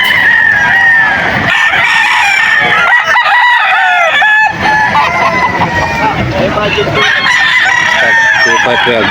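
Several young roosters crow loudly and repeatedly at a busy poultry market in Bocaue, Bulacan, calls overlapping with clucks amid crowd chatter and talk nearby.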